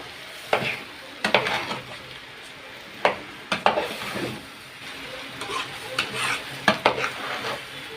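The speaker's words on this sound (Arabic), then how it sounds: "هنبدا بقى نقلبه بقى مع بعضه كده" Rice is stirred and sautéed in a sizzling pot for Alexandrian koshari, with repeated scraping strokes of a spoon against the metal sounding close over a constant frying hiss.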